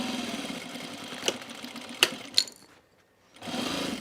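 A domestic sewing machine running top stitching along a bag seam, a steady mid-volume whir with a few sharp clicks, falling silent briefly before the motor starts up again near the end.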